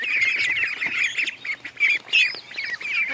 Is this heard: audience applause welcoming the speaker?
no